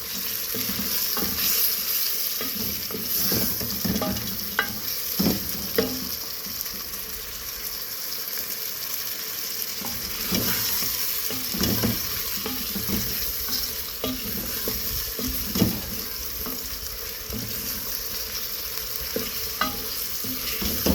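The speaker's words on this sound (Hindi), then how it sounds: "अच्छे तरीके से गोश्त को फ्राई करेंगे।" Beef pieces frying in a pot for nihari, a soft continuous sizzle under repeated scraping and clinking of a spoon stirring, close and fairly quiet throughout.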